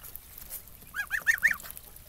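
An Indian runner duck gives a short burst of four or five quick nasal quacks, moderately close, over a quiet farmyard background.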